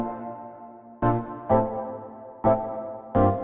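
Electric piano and synth chords strike in short, punchy stabs, four or five bright hits in a syncopated rhythm, each decaying quickly.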